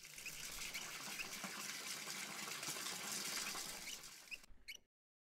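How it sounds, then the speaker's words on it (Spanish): Water gushes steadily from a tap in a puzzle adventure game, a continuous hissing stream at moderate level that runs for several seconds and then stops abruptly. "Como tenemos agua, podemos abrir aquí el grifo."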